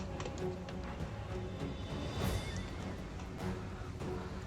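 A horse neighs amid the din of battle in the video game Total War Warhammer, a whinny rising over a dense, continuous clash of fighting sounds at moderate loudness.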